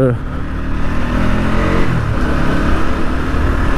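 A motorcycle nearly out of fuel runs close and loud, its engine surging and stuttering unevenly while riding on the road.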